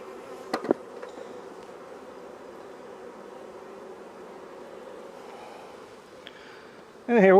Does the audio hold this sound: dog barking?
no